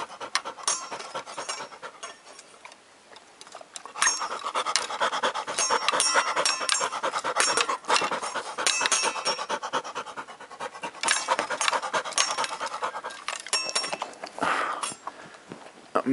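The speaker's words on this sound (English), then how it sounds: "Puppy." A puppy pants rapidly and steadily, close and fairly loud, with brief scratching and rubbing noises mixed in throughout.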